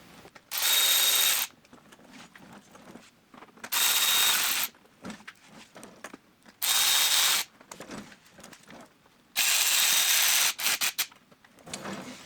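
A power drill drives screws into a Rokblokz fender extension on a 2023+ Speed UTV El Jefe, sounding in four loud whirring bursts of a second or so each, separated by quieter clicks and handling noise.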